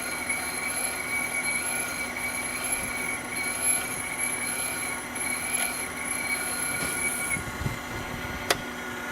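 A VR12 machine grinding titanium valve seats, a sustained high-pitched tonal whine over steady mechanical hum with a few clicks, no speech.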